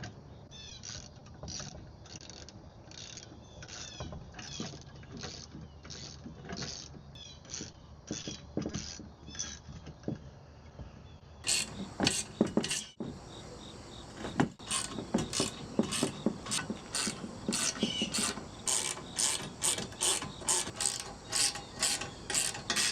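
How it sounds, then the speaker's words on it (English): A ratchet with a 9/16 socket tightening winch mount bolts, giving long runs of evenly spaced clicks close by. The strokes start softer and grow louder and sharper partway through. "Using a 9/16 socket, we can tighten everything up."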